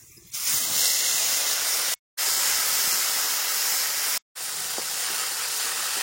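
Dry chillies and fennel seeds hit hot oil in a village kitchen, sending up a loud, steady sizzle that starts abruptly and holds as a bright hiss, broken twice by brief cuts.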